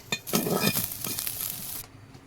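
Neem flowers fry in a little oil with a short, soft sizzle and a few stirring scrapes, fading out after about two seconds.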